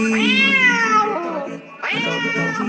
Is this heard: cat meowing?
yes